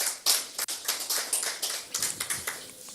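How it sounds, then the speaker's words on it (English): An audience at a formal event applauds a distinguished guest of honor with a dense, steady run of hand claps that stays fairly loud for the whole stretch, with no talk over it. "Please let us give him a round of applause."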